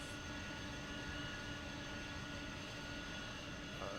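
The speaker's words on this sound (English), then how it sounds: "engine 1 and 2 are started" Embraer E175 jet engines idling in the X-Plane 12 flight simulator at JFK, a steady even whine and rumble with no other sounds, faint and continuous.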